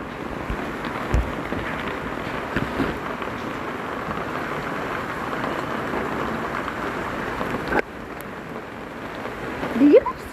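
Steady rain falls on a wet, slippery floor and glossy leaves during a thunderstorm, a continuous dense hiss throughout with a brief drop near the end and a faint bump of noise at the close.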